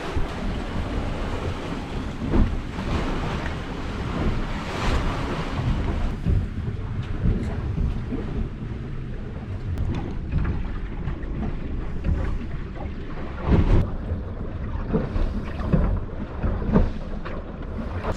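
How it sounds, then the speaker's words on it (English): A sailboat under way on the Kattegat sea, with steady broadband wash of waves against the hull and wind buffeting the microphone, continuous and fairly loud with occasional gusty swells. "We are sailing along peacefully here."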